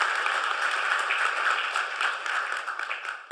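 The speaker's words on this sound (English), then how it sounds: "please join me in applauding and thanking Barbara Boxer for her enormous service to the country" An audience applauds Barbara Boxer at a speaker series event, a dense, steady burst of clapping that carries through and fades slightly at the close.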